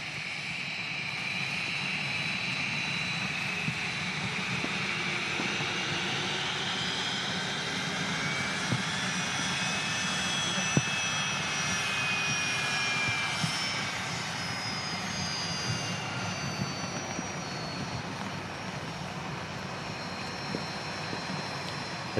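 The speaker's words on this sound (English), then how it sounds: "There you go, an awesome BizJet 525 citation. This should sound really nice as well." A Cessna Citation 525 business jet at Manchester Airport whines steadily for over twenty seconds, a moderately distant engine roar with a slowly shifting high-pitched tone.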